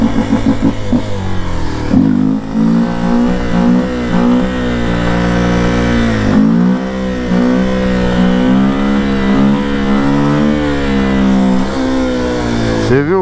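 A Honda XRE 300 motorcycle engine revving hard and holding near the limiter, loud and close, with pitch climbing and bouncing over several long sustained pulls.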